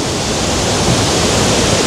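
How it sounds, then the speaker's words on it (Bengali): A waterfall in East Sikkim near Rongli, just past an iron footbridge by a riverside homestay, gives a steady, loud, broadband rush of falling water that holds without pause throughout. "এই লোহার পোলটা ক্রস করার পরে ঠিক এরকম একটা ঝর্ণা দেখতে পাবে তোমরা"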